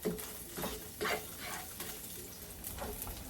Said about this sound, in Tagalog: Luluto ko ngayon yung topping. Bawang muna.